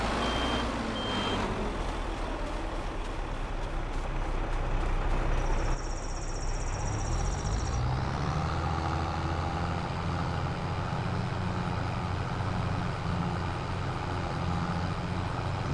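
A truck pulling a trailer manoeuvres in Farming Simulator, its engine droning steadily with reversing beeps ticking in a fast series near the start, then a rising engine rev as it pulls away, loud and continuous with no talk.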